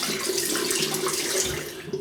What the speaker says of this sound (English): I'll heat the razor up under the hot water.